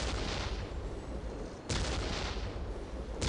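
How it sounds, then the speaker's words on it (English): Orc artillery fires in a Warhammer Dawn of War cutscene: two heavy, booming blasts about a second and a half apart, each trailing into a rumbling roar, loud and without speech. "We will silence that orc artillery."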